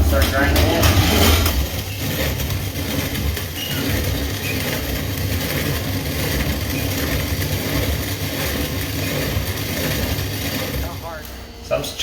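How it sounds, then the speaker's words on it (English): An old-fashioned hand-powered corn grinder grinds corn for grits, giving a steady, continuous rough grinding rumble up close for the whole stretch. "This is our corn grinder. It's an old-fashioned type of grinder. It's hand-powered. I'm gonna put some in there, and then I'm gonna start grinding it."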